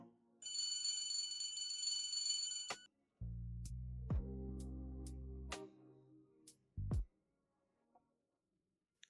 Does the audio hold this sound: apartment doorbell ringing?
yes